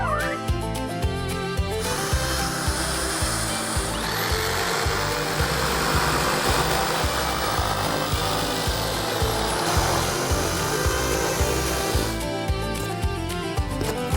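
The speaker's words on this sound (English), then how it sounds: "We've got our drill and our jigsaw." A jigsaw buzzes loudly and continuously, with harsh rasping cutting noise through most of the stretch, briefly easing near the start and end.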